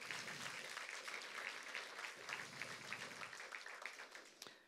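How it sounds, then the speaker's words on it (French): Applause from a French church congregation during a Sunday morning sermon, steady clapping at a fairly quiet level with soft voices beneath, dropping off near the end. "On applaudit tout le monde."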